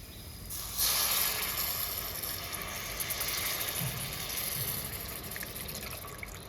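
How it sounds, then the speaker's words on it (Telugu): Tamarind juice is poured into a hot pan of frying fish curry, giving a steady, moderately loud sizzling hiss that lasts throughout. "పిసికి పెట్టుకున్న చింతపండు పులుసు వేసుకుందాం."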